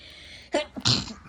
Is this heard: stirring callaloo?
no